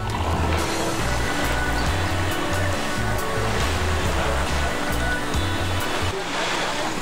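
Ocean waves wash steadily onto Bang Bao Beach, also called Siam Beach, on Koh Kood, Thailand, a constant close roar of surf with no pauses and no voices.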